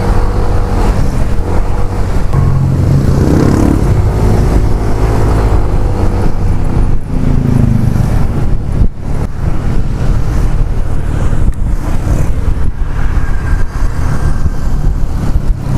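Motorcycle engine revs on a street in Bandung, a loud continuous droning roar with wavering pitch over road and traffic noise.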